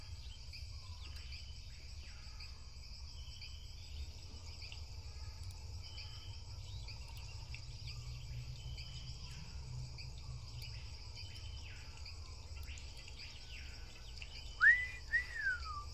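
Swamp insects keep up a dense, steady high-pitched chirring drone with faint bird calls scattered through it, and a brief sharper bird whistle near the end.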